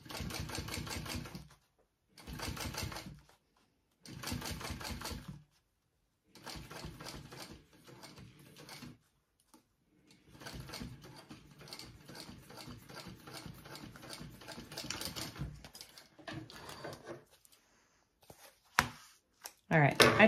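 Home sewing machine top stitching a garment seam, running in several loud mechanical bursts separated by short pauses, with a longer stretch of stitching later on and a few handling noises near the end.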